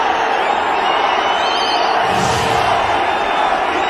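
Cricket stadium crowd in India's ODI match roaring in a sustained, dense cheer that swells slightly midway, loud and continuous with commentary voices over it.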